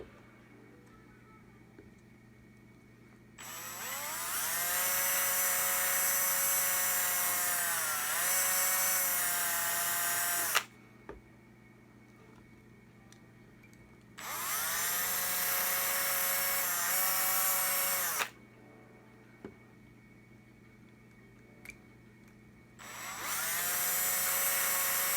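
A small rotary drill whines at high pitch while boring headlight holes in a Hot Wheels die-cast toy car. Three sustained bursts of several seconds each are separated by quiet pauses, with slight pitch dips as the bit bites into the metal.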